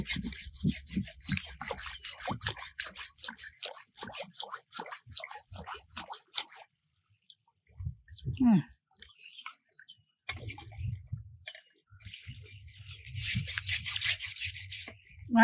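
Rapid rasping strokes of a hand saw cutting a cold pond stand pipe, a quick rhythmic series that stops, followed by scattered handling noises and another short burst of rubbing strokes.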